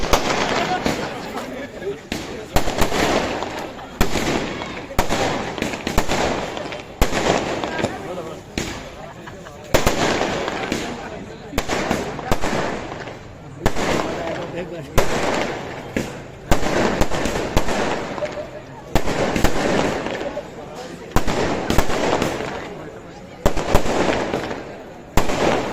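Fireworks cake firing shot after shot in rapid bursts, loud and close, with short pauses between volleys and a few voices talking underneath.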